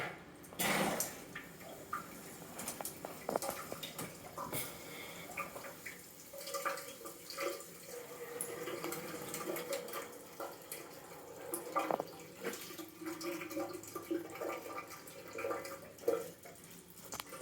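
Water sputters and splashes from opened drain valves in a boathouse during winterization, with air in the line, coming out as an irregular run of drips, gurgles and spurts at low level for many seconds.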